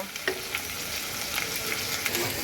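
Vegetable curry of potato, pointed gourd and cauliflower sizzles steadily in a pan while a spoon stirs in turmeric, coriander powder and salt, with light scraping clicks over the constant close frying hiss.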